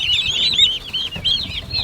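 Live turkey poults just arrived by mail chirp and peep continuously in high, close, rapid calls, with faint rustling beneath and no voices.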